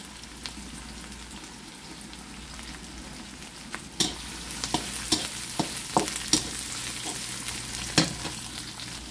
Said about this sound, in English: I will just add this all together wonderfully and saute this until this will become slightly golden brown